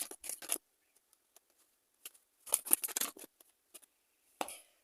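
Tarot cards being shuffled by hand in a quiet room, short crisp papery riffles and snaps in scattered bursts, close by, with silent gaps between them.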